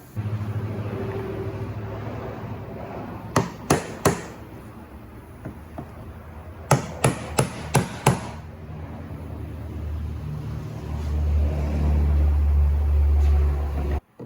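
Fuel pump being refitted into the tank of a 2006 Buick Rendezvous 3.5 with an intermittent no-start, giving a few sharp clicks and knocks near the middle and a cluster of quick clunks a few seconds later over low background hum, no talk.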